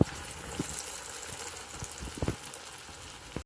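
Falafel patties (Egyptian ta'meya) frying in hot oil in a home kitchen, a constant close sizzle and bubbling hiss with a few soft clicks and taps of utensils, no talking.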